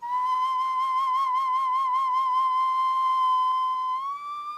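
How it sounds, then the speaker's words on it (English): A whistle carved from stone, like those excavated at Chavín, blown in one long, steady, piercing high note that wavers slightly and rises at the end. It sounds close and loud, with no talking. "Whistles carved from stone."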